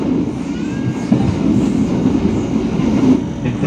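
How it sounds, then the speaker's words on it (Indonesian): The Gaya Baru Malam Selatan passenger train rolls along the rails, a steady loud rumble with a low roar and faint wheel clatter heard from inside the carriage. "KA Gaya Baru Malam Selatan kembali diberangkatkan dari Stasiun Kroya Kabupaten Cilacap jam 17:00."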